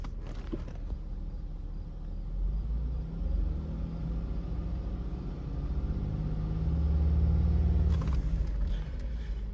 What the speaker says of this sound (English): Now let's give it a little gas.